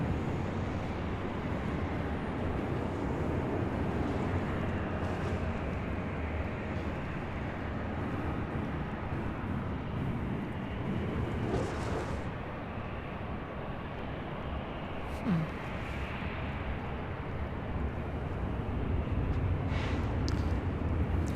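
An Alaska Airlines Boeing 737-900ER arriving from Seattle and landing at LAX, heard as a fairly faint, steady broadband jet rumble that continues evenly, with a few brief higher sounds scattered on top.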